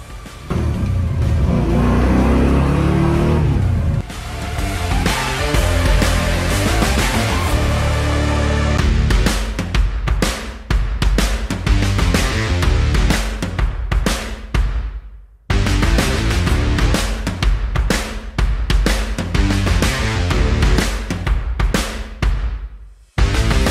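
An XB Ford Falcon ute's upgraded engine revs hard again and again, roaring up and dropping off in sharp bursts, loud and close, with brief pauses between throttle blips.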